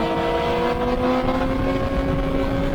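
A race car accelerating to overtake on a circuit, its engine droning loud and steady with a strong tonal whine, close and continuous.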